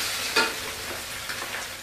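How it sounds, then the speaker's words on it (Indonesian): Boiled bitter gourd (pare) stir-frying in a hot pan gives a steady sizzle, with a sharp scraping stir near the start and a few softer stirs after it, close and alone. "Tumis paria."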